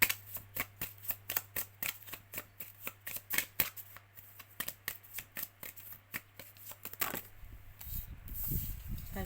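A deck of oracle cards is cut and shuffled close up, giving a quick run of crisp, rhythmic riffling flicks that then gives way to a softer rustle.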